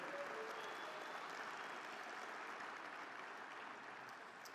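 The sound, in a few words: convention audience round of applause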